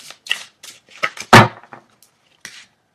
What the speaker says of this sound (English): These cards don't want to shuffle.